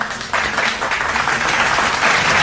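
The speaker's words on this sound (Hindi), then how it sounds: "आप जोरदार तालियों से उनका स्वागत करिए" An audience at a memorial poetry gathering gives sustained, dense applause to welcome a speaker to the stage. The clapping starts abruptly and stays loud and even throughout.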